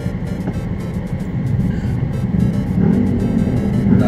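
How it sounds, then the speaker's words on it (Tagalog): Interior drone of a Suzuki S-Presso AGS automatic car on the road, a steady low engine rumble that builds slightly as it accelerates, with no talk. "first time ko lang mag-drive ng matic"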